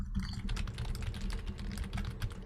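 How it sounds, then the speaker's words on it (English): Typing on a computer keyboard during an online theatre trivia game, a steady stream of dense, fast keystrokes clattering continuously throughout, fairly close and moderately loud. "Who's typing? I hear typing happening."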